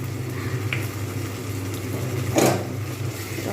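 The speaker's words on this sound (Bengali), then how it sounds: "ভালো করে এর সঙ্গে কষিয়ে নেবো" Chili powder and turmeric sautéing with spices in a pan for a spicy katla fish curry, a steady low sizzle and frying hiss throughout with a brief louder stir near the end.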